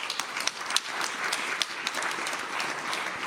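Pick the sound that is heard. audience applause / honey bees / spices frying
audience applause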